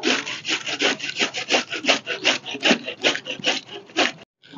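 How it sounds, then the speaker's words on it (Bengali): Onions being grated for a Bengali katla fish curry, about a dozen rapid rasping strokes in a steady back-and-forth rhythm, close and fairly loud, ending with a brief pause. "পেঁয়াজটা গ্রেট করে নেব।"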